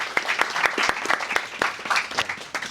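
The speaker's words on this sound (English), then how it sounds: "just give yourself a round of applause" Participants at the Cluj Game Jam 2025 awards break into lively applause, a dense burst of nearby clapping with distinct hand claps standing out throughout.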